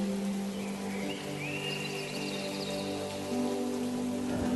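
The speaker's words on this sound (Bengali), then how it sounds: "বৃষ্টির দিনে এই জঙ্গলের পথে চলেছি আমি একা একা" Cartoon rain effect for a stormy night in a jungle, a steady wash of falling rain under sustained tonal music, with no talking.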